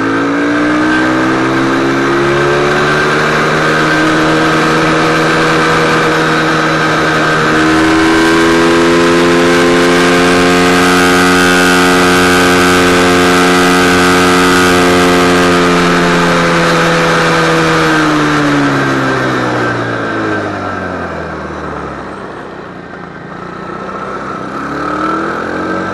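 A car engine revs hard and loud up close, its pitch climbing, dipping and climbing again through the gear changes over a long steady pull, then easing off near the end.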